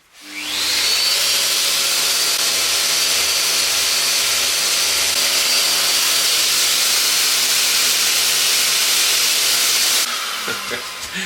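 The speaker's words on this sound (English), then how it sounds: "I'm using this thinner sander just to get into these edges" A thin detail sander works the edges of a small wooden table, running as a loud, steady, close whine for about ten seconds before it cuts off and rattles to a stop.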